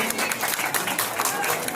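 Audience applause at an Ambedkar Jayanti celebration held by a youth service committee, a dense wash of clapping filling the short moment at steady loudness.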